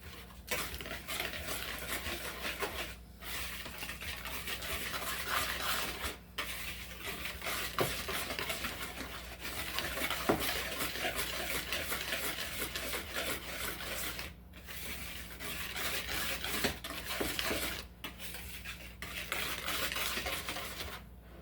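Whole wheat flour, salt and baking powder are whisked together in a bowl, giving a continuous close scraping and rubbing with light metallic clinks and brief pauses, with no voices.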